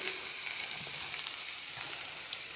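Onions fry in hot oil in a wok, giving a soft, even crackling sizzle with small pops, fairly quiet and steady throughout.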